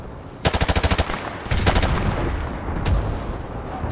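Gunfire in the video game Call of Duty Modern Warfare. A rapid automatic burst of about seven close, loud shots comes first, then a second burst and a single later shot over steady background noise.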